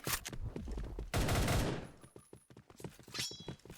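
Rapid bursts of gunfire in the shooting game Point Blank, loud overlapping shots and a dense fusillade that then trails into scattered fainter pops.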